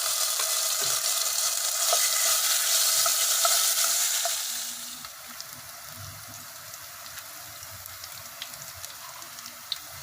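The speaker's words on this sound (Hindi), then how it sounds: "अभी 1 चम्मच में तेल डाली हूँ, 1 चम्मच अदरक लहसुन डाली हूँ" Ginger garlic paste frying in a spoonful of oil for chicken soup, a bright, loud sizzle that fades to a faint crackle with small pops after about five seconds.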